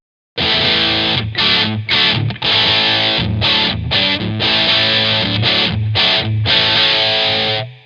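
Chunky, distorted electric guitar chords through a BluGuitar Amp 1 crunch rhythm channel, played in a choppy rhythm with short stops between strums, loud and close, with no one talking.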